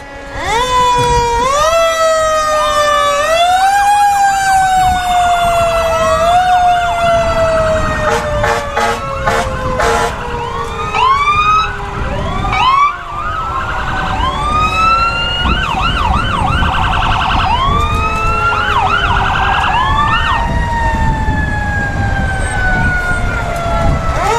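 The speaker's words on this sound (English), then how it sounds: "Up next, we have the Huntsville Fire and Rescue. And their big ladder truck." Huntsville Fire and Rescue ladder truck at a parade, its siren wailing loud and continuous, rising and falling through repeated sweeps with overlapping siren tones and steady traffic rumble beneath.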